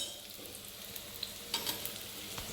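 Sweet corn tikki fry in oil in a pan, with a steady close sizzle and crackle and a few soft scraping stirs.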